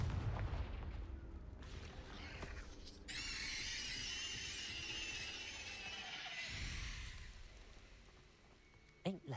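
A Confringo blasting spell fired in the Hogwarts Legacy game: a booming impact followed by a long shrill, whistling crackle that fades away, set over a low rumbling game soundscape.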